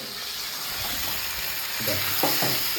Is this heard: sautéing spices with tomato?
yes